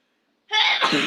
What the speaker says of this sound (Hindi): तो पेपर से मुझे छींक आ चुकी है